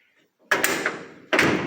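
A 1940 DeSoto car door is opened, then swung shut with a solid metallic latch, followed by a second sharp shutting thud; two loud close impacts with a brief pause between.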